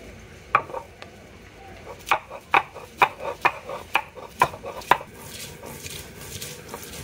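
Ginger and garlic being ground into a paste: about a dozen sharp, rhythmic strikes and scrapes in quick succession, close and fairly loud, before the sound trails off into quiet rubbing.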